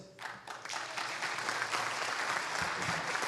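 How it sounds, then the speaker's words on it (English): An audience at an organization's annual meeting breaks into applause as the president and CEO is introduced, the clapping swelling quickly into a steady, full round heard alone. "Big round of applause for Pete Lopez, our chair."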